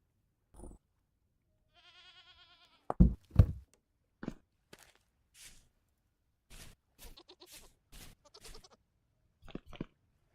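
Goats bleat in the video game Vintage Story, a few short clear calls scattered among sharp knocks and thuds, with no talk over them.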